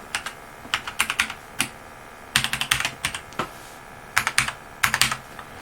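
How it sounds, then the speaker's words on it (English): Password being typed on a USB keyboard: bursts of quick, crisp key clicks in short clusters separated by brief pauses, close and clear with no talking. "make sure you have a USB keyboard connected, because you have to type in the password."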